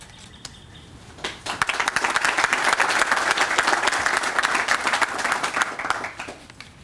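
Audience applause fills a hall at the opening of a furniture factory lab at a community college and technical institute, swelling quickly into steady, dense clapping that holds for several seconds before tapering off.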